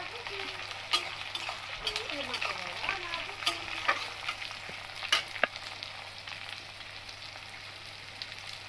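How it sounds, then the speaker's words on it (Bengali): Steady frying sizzle of browned onions and tomatoes in a pan, with occasional clinks and stirring scrapes over a constant low hum; no one speaks. "পেঁয়াজ লাল করে ভাজা হয়ে গেছে, টমেটো দিয়ে দিচ্ছি"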